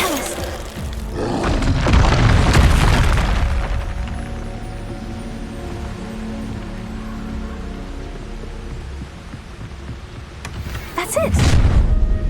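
Repeated Expulso spell explosions in the Hogwarts Legacy video game, loud booming blasts with rumbling low end, a heavy burst early on, a sustained roar, then another strong blast near the end.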